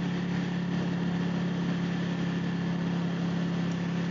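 A 2014 Ducati 899 Panigale motorcycle engine under way, a loud, steady, even drone that holds constant without breaks or shifts and with no voices over it.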